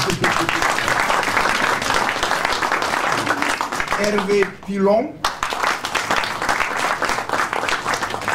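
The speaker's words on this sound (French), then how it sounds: "il faut l'applaudir" An audience at a seminar applauds to honour a colleague, a dense, sustained round of clapping heard under a voice as he reads out names, with a brief lull midway.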